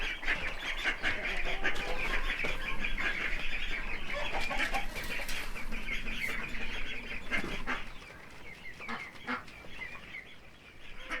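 Farmyard ducks quack busily and continuously, a dense overlapping chorus close by, with no voices over it.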